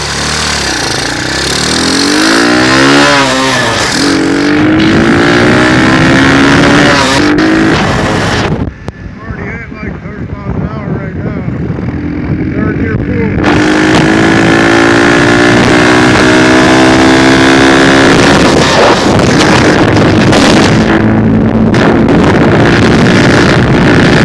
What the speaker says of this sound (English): Let's go take it for a ride real quick.